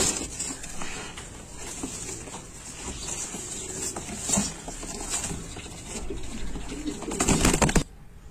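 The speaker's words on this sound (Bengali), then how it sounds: "এই যে আমি কার্টুনে কবুতর দুইটা ঢুকিয়ে দিয়েছি" Two pigeons shut inside a cardboard carton give soft, muffled coos amid rustling, scratching and light tapping against the box, ending in a louder burst of shuffling.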